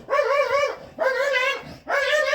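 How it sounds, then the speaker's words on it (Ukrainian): An angry dog gives three drawn-out, harmonic barks, close and loud, evenly spaced with short silent gaps between them. "Собака злий, злий."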